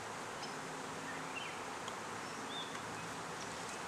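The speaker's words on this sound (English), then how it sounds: "so far that's one, two, three beehives" Honey bees buzz around beehives outdoors during a hive split, a constant dense hum with occasional individual bees passing close, faint and steady with no talking.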